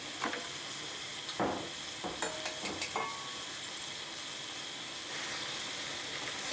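Chicken pieces sauté in a pan with a soft, continuous sizzle, broken by a few brief scraping stirs and clinks of a utensil against the pan, fairly quiet and with no voices.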